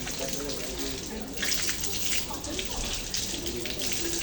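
Tap water runs steadily while a person rinses the mouth during ablution (wudhu), a continuous close splashing stream with no talk over it.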